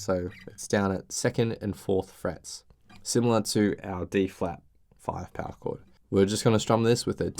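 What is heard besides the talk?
No everyday noise stands out behind the speech.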